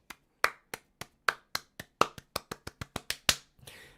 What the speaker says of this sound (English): Let's get a huge round of applause